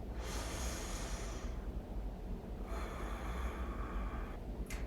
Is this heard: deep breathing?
yes